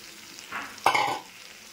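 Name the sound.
Gobindobhog rice frying and stirred in spice paste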